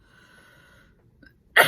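A single sharp cough bursts out after a quiet pause, loud and close, following a soft earlier sound of someone recovering from a lingering cough.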